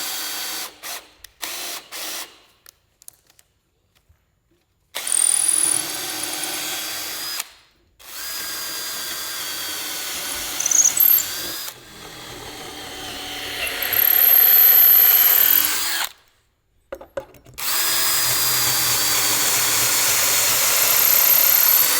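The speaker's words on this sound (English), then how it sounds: "the next job is to drill through the wood" A power drill bores through clamped wood for a support beam on a 70-year-old London double-decker bus, in several long whining bursts separated by pauses, with a few short starts at the beginning.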